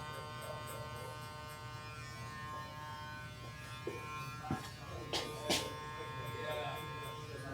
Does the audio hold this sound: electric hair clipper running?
yes